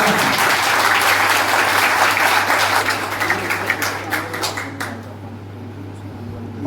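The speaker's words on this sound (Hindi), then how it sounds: "मैं बहुत जोरदार तालियों के साथ आपको मंच पर आमंत्रित करता हूं" An audience at a drama and acting event applauds loudly to welcome a speaker to the stage, dense clapping that thins into scattered claps before dying away.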